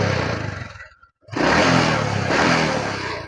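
A Honda Supra 125 motorcycle engine runs close by with a loud buzzing drone that cuts out briefly, then starts again and revs into a steady, rough-edged run.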